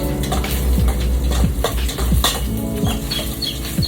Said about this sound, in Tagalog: Ayan, halu-haluin lang natin